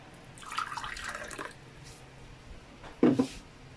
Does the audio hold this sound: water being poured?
yes